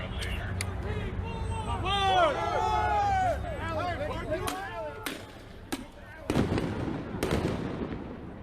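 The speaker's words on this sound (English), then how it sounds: "Shots fired. Shots fired." Gunshots at a street protest ring out as several sharp, loud cracks over a noisy outdoor crowd, with people shouting and talking throughout.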